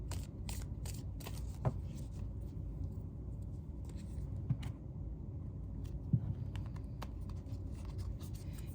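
Tarot cards shuffled by hand at close range, a run of soft crisp riffles and papery slaps with a few brief taps, no talk.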